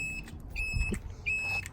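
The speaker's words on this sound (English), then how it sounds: "Let's test the blinkers. There's that horrible beep." A 2019 Taotao TBR7 motorcycle's turn signal gives short, shrill electronic beeps, two clear pulses about half a second apart, close and fairly loud over faint low background noise.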